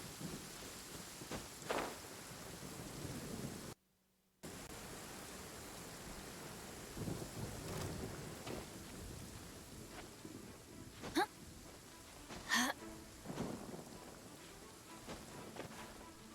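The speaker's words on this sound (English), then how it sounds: "It always rains when I go on an adventure." Steady rain pours in the Genshin Impact game world, a continuous soft wash with faint rumbles of thunder and a few brief sharper crackles.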